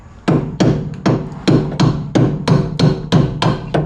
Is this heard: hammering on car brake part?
yes